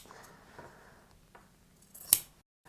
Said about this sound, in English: grab your scissors and just snip the corners